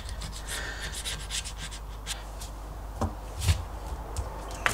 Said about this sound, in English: So I'm just going to go around with the razor blade, just taking up any bits where the paint's come through.